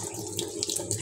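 Water runs in a continuous steady stream through the purge unit of an Epson L3210-series ink tank printer under repair, a close, moderately quiet splashing trickle with no talk.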